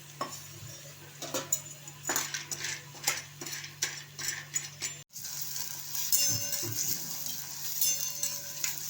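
Sun-dried lentil dumplings (sandge) roasting in oil in a pan, with a light continuous sizzle under repeated scraping and stirring clatter from a utensil against the pan, close and fairly loud.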